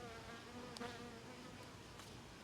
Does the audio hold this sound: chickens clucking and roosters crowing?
no